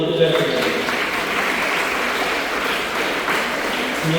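Children and teachers clap steadily at a school Children's Day celebration in South Paravur, a dense patter under a voice talking.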